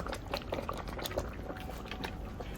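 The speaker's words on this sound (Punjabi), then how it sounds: "ਆਪਣਾ ਸਾਗ ਨਾ ਬਹੁਤ ਵਧੀਆ ਰਿੱਝਿਆ ਹੈ" Saag (mustard greens) simmering in a pot over a smoky open fire, a steady low bubbling and gurgling with soft pops throughout, close by and moderately quiet, with no talking.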